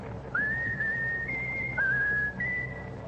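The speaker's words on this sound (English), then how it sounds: "Now whistle my country tis of thee, Raffles." A person whistles a slow, patriotic melody, one clear sustained note gliding into the next, close and steady for about three seconds, heard alone against a faint radio-show room hiss.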